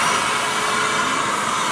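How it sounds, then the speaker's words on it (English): A Hoover vacuum cleaner runs at close range, a steady loud motor whine and airflow roar with no pauses or voices. "let's see if this Hoover vacuum cleaner can pick me up"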